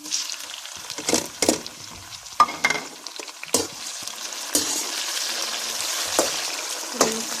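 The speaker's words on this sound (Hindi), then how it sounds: "प्याज ब्राउन हो गया, अब मैं इसमें टमाटर डालूँगी" Browned onions fry in a pan, and tomatoes go in with a burst of hissing sizzle. Spoon scrapes and stirring clatter come in bursts, close up, over steady frying.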